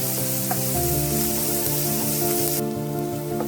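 Onions and chopped vegetables for momo filling sauté in a pan, giving a close, steady hiss and sizzle with light scraping, a constant bed of frying sound and no talking.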